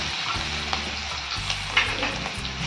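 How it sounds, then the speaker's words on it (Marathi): Coarse green chili paste hits about three spoonfuls of hot oil in a wok and sizzles hard and close, a constant crackling hiss with small spatters and faint stirring scrapes, no talking. "टाकूया आता त्यामध्ये मिरचीचा खरडा"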